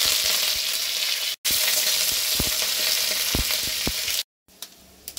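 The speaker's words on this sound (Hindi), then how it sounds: "कढ़ाई में तेल डालूँगी, फोरन देती हूँ, सरसों, अदरक लहसुन" Mustard seeds, ginger, garlic and curry leaves tempering in hot oil in a kadai for South Indian rasam, giving a steady, close, crackling sizzle that is briefly cut twice.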